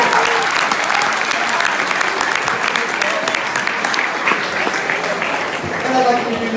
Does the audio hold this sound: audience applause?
yes